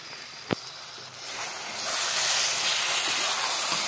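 Tomatoes are poured into hot spiced oil for a katla fish curry; after a sharp click, a steady hiss swells into a louder, steamy sizzle that holds to the end.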